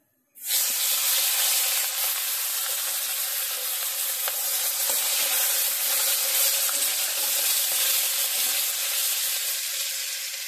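A small hilsa fish head rubbed with salt, chili and turmeric drops into hot oil, setting off a sudden loud, steady sizzle that holds unbroken and close for the whole stretch.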